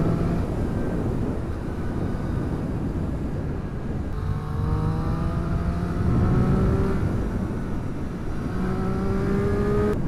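A 2015 Triumph Street Triple RX motorcycle engine revs while riding into hilly country, with rising tonal sweeps over steady wind rumble and a louder pass in the middle.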